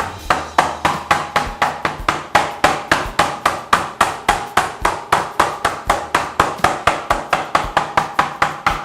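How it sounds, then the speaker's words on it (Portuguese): A meat mallet's smooth face pounds pork flat on a cutting board, about thirty sharp, evenly spaced thuds at a brisk steady rhythm, close and loud, with no one speaking. "você tem que usar sempre o lado liso do seu martelo e não esse outro lado para amaciar a carne"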